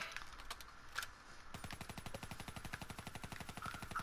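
Rapid automatic gunfire in Call of Duty Black Ops 3 Prop Hunt, a steady fast burst running about two and a half seconds after a few isolated shots, moderately loud with no talk over it.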